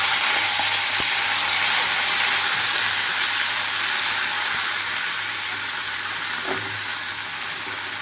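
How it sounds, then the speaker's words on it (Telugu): Mint leaves fry with urad dal in oil over a low flame, giving a continuous, even sizzling hiss close by with faint occasional clicks and no talking. "ఇక్కడ చూడండి మినప్పప్పు అంతా కలర్ మారిపోతున్నప్పుడే పుదీనా వేసేస్తున్నాను"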